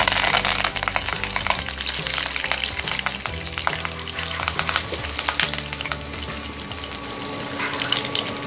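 Garlic and curry leaves sizzle and fry steadily in hot oil in a pan, a constant crackling hiss with occasional stirring, close and alone, as the base for a prawns masala.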